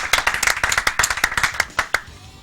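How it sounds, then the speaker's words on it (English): A small crowd at a live video game speedrun event claps in quick, irregular bursts, close and crisp, fading out after about two seconds. "it deserves an applause"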